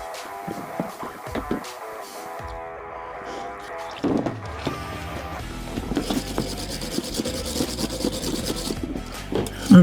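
Surface rust is scratched off metal hardware, making rasping, scraping strokes in irregular bursts that are close and fairly loud, with clattering handling noises mixed in.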